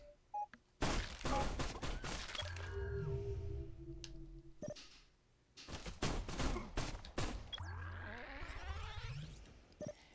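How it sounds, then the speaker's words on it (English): Enemy ships in the space strategy game Endless Space 2 fire weapons in loud, rapid volleys of sharp shots, separated by humming pauses and sweeping whooshes, with no one speaking. "now they're shooting back"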